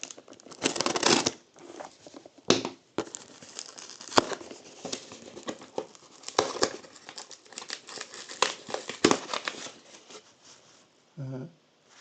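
Scissors snip and crinkle through material in a garden setting, irregular bursts of sharp cutting and rustling sounds, close and fairly quiet, with a brief murmur of voice near the end.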